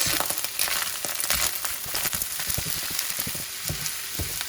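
Fried rice with fresh ingredients and spices being stirred in a hot pan, a dense crackling sizzle broken by repeated spatula scrapes and knocks in an uneven rhythm.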